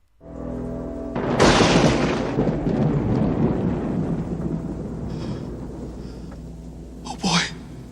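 A film thunderclap from a lightning strike booms loudly, then rolls and rumbles away over several seconds, with a brief sharp sound near the end.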